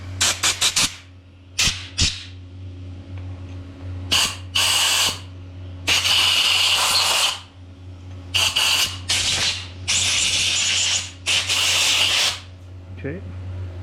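Bursts of compressed air hiss sharply through a KZ1000 rear brake master cylinder, several short blasts and longer sustained blows separated by pauses, loud and close over a steady low hum.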